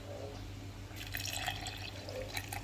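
Water poured into a pot of oats while cooking oatmeal, a soft splashing and trickling that starts about a third of the way in and runs on quietly, fairly faint, with no talk.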